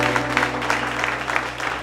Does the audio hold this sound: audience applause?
yes